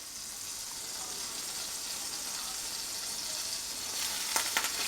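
Melted butter sizzles steadily in a pan as flour goes in for a roux, a continuous bright hiss with a few sharp crackles and pops near the end; no one speaks.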